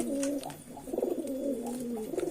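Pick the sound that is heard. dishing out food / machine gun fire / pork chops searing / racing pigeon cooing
racing pigeon cooing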